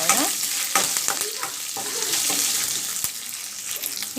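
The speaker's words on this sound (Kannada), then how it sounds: "ಇದನ್ನು ಚೆನ್ನಾಗಿ ಒಂದು 2 ಮಿನಿಟ್ಸು ಈರುಳ್ಳಿನ ಎಣ್ಣೆಯಲ್ಲಿ ಚೆನ್ನಾಗಿ ಫ್ರೈ ಮಾಡ್ಕೊಳ್ಳೋಣ" Onions and curry leaves frying in hot oil for a beetroot stir-fry, giving a steady close sizzle broken by scraping stirs of a spoon in the pan.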